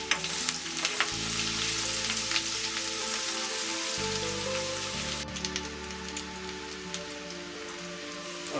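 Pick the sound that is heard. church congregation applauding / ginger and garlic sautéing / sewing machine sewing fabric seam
ginger and garlic sautéing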